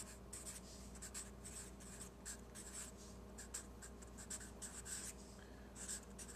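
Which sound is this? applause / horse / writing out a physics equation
writing out a physics equation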